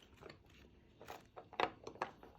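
Close, quiet bites and crunches of salted edible clay, a handful of irregular crisp crunches growing a little louder toward the end.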